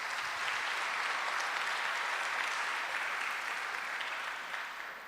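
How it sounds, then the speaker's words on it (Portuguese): A church congregation applauds the Lord during a worship service, steady dense clapping filling the room for several seconds before easing slightly at the end. "Então aplauda o Senhor."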